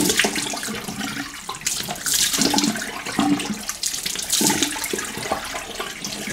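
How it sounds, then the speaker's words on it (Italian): Water splashed onto the face before a wet shave, with running tap water and irregular splashes continuing steadily at close range, fairly loud and with no talk. "ci bagniamo il viso"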